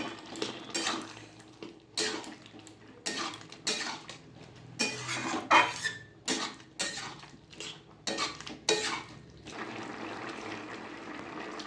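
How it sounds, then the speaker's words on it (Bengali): Spoon scraping and clinking against a pan while chopped coriander is stirred into a chal kumro (ash gourd) dish with a little sugar, in repeated clattering strokes close by. "দিয়ে দেবো ধনেপাতা কুচো, মিশিয়ে নেবো ধনেপাতাটা।"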